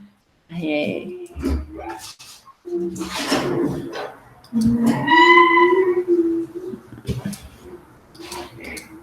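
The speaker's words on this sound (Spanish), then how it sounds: "Dijo la vaca." A cow lowing in a series of drawn-out, tonal moos with short gaps, loud and close, filling most of the stretch.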